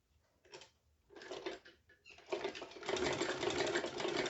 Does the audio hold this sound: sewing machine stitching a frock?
yes